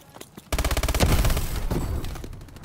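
Rapid automatic MP11 gunfire in Call of Duty, a loud, dense burst of closely spaced shots starting abruptly and rolling into a sustained clattering barrage with booming reverberation, no voices.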